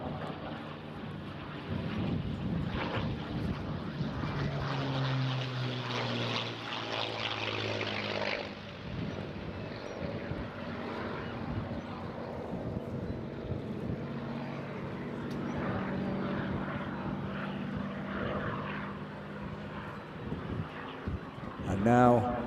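A P-51D Mustang propeller fighter making its final pass at an airshow in Eastbourne, its engine drone swelling and fading as it sweeps past, with wind noise and a commentator talking continuously over it.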